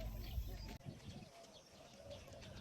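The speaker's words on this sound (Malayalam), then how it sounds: "ഈ ബാക്ക്ഗ്രൗണ്ടിൽ കേൾക്കുന്ന മുഴുവൻ ഇവിടുത്തെ പക്ഷികളുടെ ശബ്ദങ്ങളാട്ടോ" Birds calling in the background in Qatar, soft cooing and chirps, with a louder low rumble at the start before it settles into quieter ambience.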